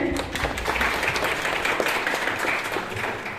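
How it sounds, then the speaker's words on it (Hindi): Loud, continuous applause from a crowd at a B.Ed college farewell function, many hands clapping evenly for a few seconds. "जोरदार तालियां होनी चाहिए"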